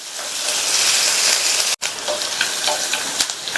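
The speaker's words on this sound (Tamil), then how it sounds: "வெங்காயம்லாம் ரொம்ப வதங்கணுங்கிற அவசியம் கிடையாது, லைட்டாக வதங்கினா போதும்" Chopped onion sautéing in a pan for a beetroot and green pea stir-fry with dried red chillies, a steady close sizzle with a brief gap midway, then a few light stirring clicks.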